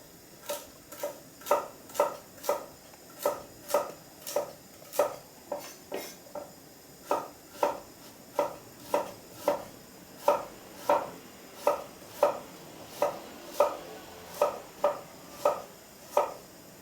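Knife slicing burdock root diagonally on a cutting board, a steady series of crisp, evenly spaced chops ringing close and clear with no voices.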